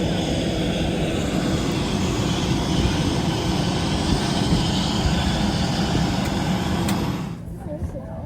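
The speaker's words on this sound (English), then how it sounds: "So I hopped on a plane." Steady, loud jet engine drone as heard inside an airplane cabin in flight, cutting off abruptly near the end.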